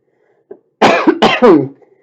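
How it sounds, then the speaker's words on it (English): Three harsh, close coughs from an asthma flare-up in quick succession after a small throat sound, loud and raspy against silence. "Sorry, guys, for the heavy breathing and the coughing."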